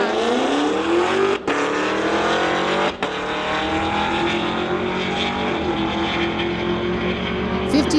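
A drag racing car at a street legal drag event roars down the strip, its engine a loud, sustained high-revving blare that holds steady for the whole stretch, with two brief dips as it shifts gears.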